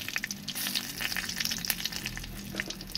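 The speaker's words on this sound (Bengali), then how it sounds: "এই মশলাগুলোকে একটু ভালো করে ভেজে নিই" Whole spices—mace, bay leaf and dried chilli—fry in hot oil in a pan, giving a steady close sizzle with small crackles throughout, no voices over it.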